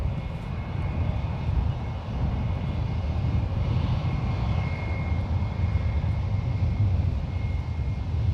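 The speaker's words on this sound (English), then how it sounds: "on 28 left, we have American Airlines Flight 16 departing to JFK" An 8-year-old American Airlines Airbus A321 departs from runway 28 left at San Francisco International Airport, a steady deep rumbling roar of jet engines heard from a distance, continuous and unbroken throughout.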